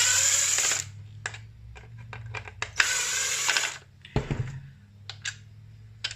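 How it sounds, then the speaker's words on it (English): Two screws on a car indicator lens being undone with a power driver, giving short whirring bursts and light clicks of handling close by, with no talking. "we'll start by undoing the two screws on the lens"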